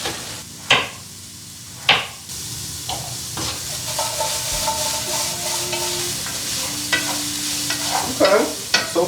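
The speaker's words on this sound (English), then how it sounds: "Dry fry for 5 minutes or until lightly charred. Okay, stirring occasionally." Peppers and carrot dry frying in a pan for a sweet and sour stir fry, a steady close sizzle broken by several sharp clacks and scrapes of stirring, with no talk.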